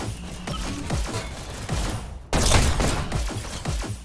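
Rapid gunfire in a video game, sharp repeated shots popping in quick bursts with a louder, denser volley midway, close and prominent without speech.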